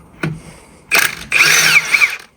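Power tool removing bolts from a BMW E36 during engine removal: a short tap, then two whirring bursts of an impact driver or drill, the second longer and nearby.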